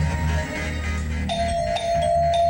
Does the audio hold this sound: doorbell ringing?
yes